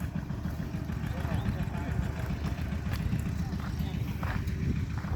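A two-wheel farm tractor engine (rot dut) chugs and revs steadily in a fast, rattling rhythm, loud and close, with a person talking over it throughout.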